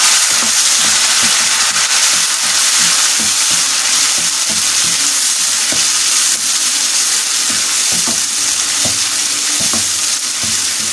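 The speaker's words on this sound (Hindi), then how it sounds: "अब मैं साथ ही अपने टमाटर जो मैंने काटे थे वो मैं डाल दूँगी इसके अंदर" Chopped tomatoes and green chillies hit hot oil in a frying pan for aloo palak, giving a loud, steady, close sizzle that runs throughout, with occasional scrapes and taps of stirring and no talking.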